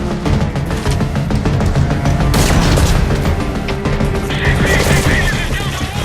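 Dense, sustained enemy gunfire in Metal Gear Solid V: Ground Zeroes during a daytime base escape, with rapid automatic bursts and heavy booms layered continuously over a loud game soundscape.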